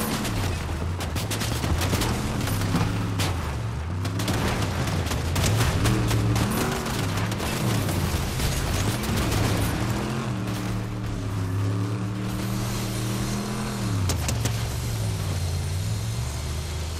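Rapid bursts of automatic gunfire fill a Fortnite match, dense and continuous, layered with engine-like drones and other game effects.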